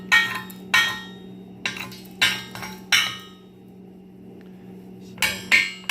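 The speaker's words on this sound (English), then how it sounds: "grab the chipping hammer here. There's the first couple, and I really like them when they peel off like that." Chipping hammer knocking weld slag off steel loader fork brackets, a series of sharp metallic raps in small clusters with pauses between, close and clear, no talk.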